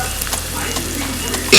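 Onions frying in a pot for a mild chickpea curry give a steady, close hiss of sizzling and stirring that holds at one level throughout, with no talk over it.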